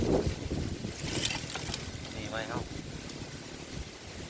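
Outdoor wind buffets the microphone in a steady, loud rumble for the whole stretch, with someone talking over it.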